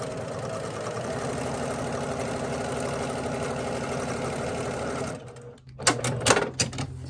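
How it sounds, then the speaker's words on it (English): A sewing machine stitching a line across a quilt block runs at a steady hum for about five seconds, then stops, followed by a few clicks and clacks of handling. "I'm just going to go ahead and use my presser foot as a guide for sewing that second line"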